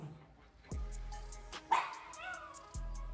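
A dog confined in a crate barks at a doorbell, giving a few sharp, fairly close barks with short whimpering tones in between, heard alone without talk.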